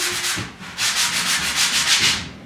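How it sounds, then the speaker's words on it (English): Sandpaper or a sanding block scrubs across a painted board in quick, rhythmic back-and-forth strokes, a close, dry rasp that pauses briefly before picking up again. "you can take your sandpaper or your sanding block and just start sanding"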